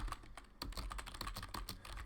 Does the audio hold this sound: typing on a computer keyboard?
yes